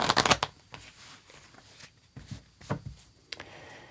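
Tarot cards riffle and slide under the hands in a close, soft shuffle, with quick flurries of papery flicks and brief pauses between passes.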